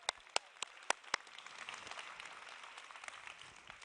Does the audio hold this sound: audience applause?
yes